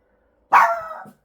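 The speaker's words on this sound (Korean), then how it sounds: "네 우리 도토미가 짖고 있어요" A dog lets out a single sharp bark that trails into a short whine, close and loud against silence.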